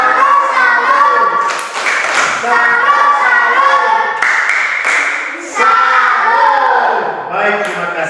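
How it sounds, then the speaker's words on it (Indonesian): A classroom of children claps a rhythmic salute clap, loud and close, with bursts of cheering and shouting voices mixed among the claps throughout. "tepuk salut"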